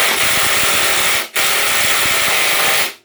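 A Ryobi impact driver hammers loudly and continuously at a stubborn screw, with one brief pause near the middle before running again and then cutting off.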